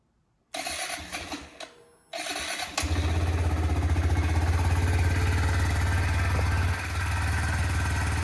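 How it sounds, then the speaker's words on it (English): A 2022 Kawasaki Z125 motorcycle's small engine cranks briefly, catches and starts, then settles into a steady, low, throbbing idle close by. "this bike's extremely quiet, so turn it on here."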